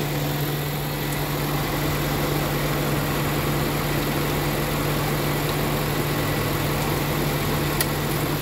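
Honda Fit with an overheating problem, under check ahead of a top overhaul, idling steadily in a workshop with a constant low hum and faint mechanical whir, no talk over it.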